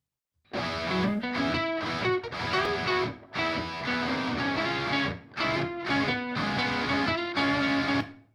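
Thick, heavily saturated rock guitars run through Waves BB Tubes tube saturation, loud and dense with driving chords and short breaks between phrases, filling the mix without any voices.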